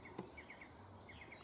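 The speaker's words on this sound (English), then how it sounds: "There's a little warbler there." A small warbler calls from thorny scrub on a countryside nesting walk, giving a short series of thin, high repeated chirps at moderate distance over a soft outdoor background.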